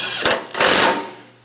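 Power tool tightening bolts on a 2007-2013 Chevrolet Silverado 1500 rear bumper end, two short close bursts of whirring and rattling followed by a fading whine.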